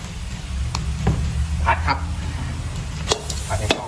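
Pork stir-fried with roasted chili paste in a pan, a steady sizzle with scraping stir strokes and brief clinks of the spatula, close and continuous under a low background hum.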